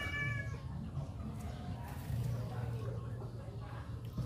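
A cat meows a few times near the start during flooding, the calls sitting over a steady low background hum while someone talks throughout.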